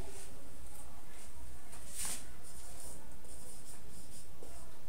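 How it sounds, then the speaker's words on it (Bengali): Pen or marker writing on a board or paper during an English lesson, a steady scratchy stroke sound with one brief louder squeak near the middle. "তাহলে আমরা আরো কিছু এখানে লিখব"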